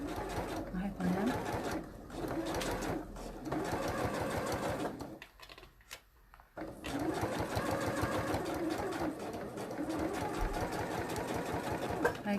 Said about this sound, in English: So I'm stitching right on the edge of the fold all the way up.